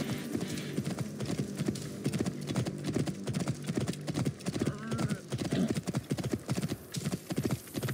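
Several horses gallop in Assassin's Creed Origins, a fast continuous drumming of hooves close by. The rhythm is steady throughout, with faint background ambience.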